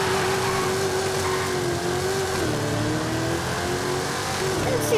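Powerful engines of a Camaro and a Mustang rev and drone together at the start of a drag race in Forza Horizon 5, a loud sustained roar with shifting pitch and a faint voice underneath.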